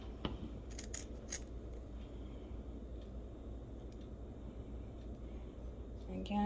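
Scissors snip through craft hair for a Valentine's Day project, a few quick crisp cuts near the start set against a constant noisy room background.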